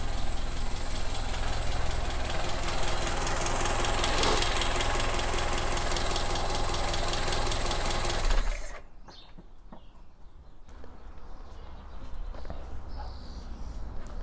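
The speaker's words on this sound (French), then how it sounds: "Elle tourne bien, elle démarre bien, elle tourne rond" A small engine running on iridium spark plugs and E10 or ethanol fuel idles steadily and loudly, then cuts off abruptly, leaving quiet with faint clicks and background sounds.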